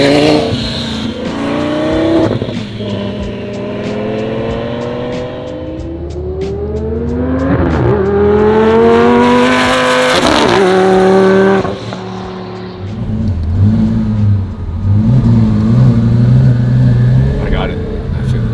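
An Audi R8 sports car accelerates hard, its engine note rising and swelling loudly over several seconds before easing off, with people talking throughout in the cabin.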